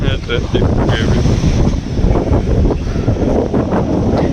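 Strong cool wind buffets the microphone in a continuous roar in a village near Porbandar, with faint voices mixed underneath.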